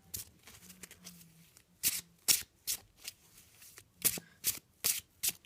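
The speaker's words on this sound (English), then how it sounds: "let's just shuffle" A deck of Yu-Gi-Oh cards riffled and shuffled by hand, a run of sharp, crisp bursts in uneven rhythm, close and fairly loud, with no talking.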